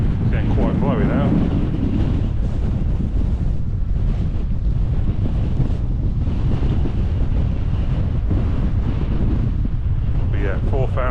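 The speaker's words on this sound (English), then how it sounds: "it's getting quite blowy now" Strong wind roars across an exposed hilltop moor among Bronze Age stone circles in the Peak District, buffeting the microphone in a steady, heavy rumble that never lets up for the whole stretch.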